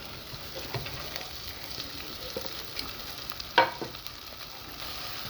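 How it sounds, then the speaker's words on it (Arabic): Peppers fry in a pan while being stirred, a soft steady sizzle with scattered scrapes of the utensil and one sharper clink partway through. "بفضل اقلب لحد ما الفلفل بتاعنا يستوي"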